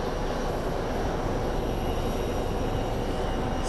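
A steady, broad jet roar from an airliner at Phoenix Sky Harbor airport holds at constant loudness, heard from a distance with no talk.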